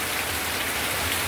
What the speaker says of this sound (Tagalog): Kusog kayong ulan.